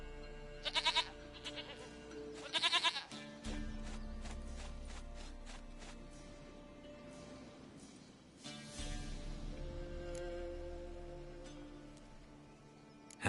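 Goat bleating in The Witcher 3: Wild Hunt, several short bleats close together near the start, then another burst later over game ambience with music and soft hoof-like steps.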